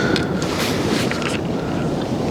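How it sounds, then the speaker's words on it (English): Strong wind at Lindley Wood Reservoir, a loud continuous roar of gusts battering the microphone with rumbling low-end buffeting and no voices. "the weather's been a bit different to the forecast and the wind's a bit stronger"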